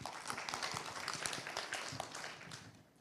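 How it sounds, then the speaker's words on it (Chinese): Faint, distant applause fills a lecture hall at a seminar on integrated care for older people, a dense, steady patter of many hands welcoming a doctor to the stage before tapering off. "我们掌声欢迎黄继贤医师"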